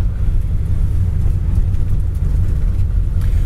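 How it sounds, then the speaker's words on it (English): A 1968 Ford Mustang with headers and dual exhaust rumbles steadily, a deep, loud, continuous engine drone close by with no speech over it. "I mean, this car really sounds mean."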